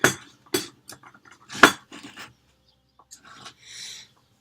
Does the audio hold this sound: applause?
no